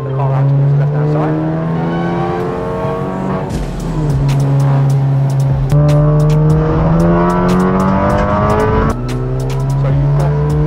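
A race car accelerates hard on a racing circuit, its loud engine climbing through the revs repeatedly with sharp gear changes, close and continuous. Someone talks over the engine noise.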